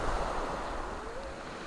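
Sea waves wash onto a crowded beach in Sukko, near Anapa, making a steady, soft surf hiss throughout with no voices.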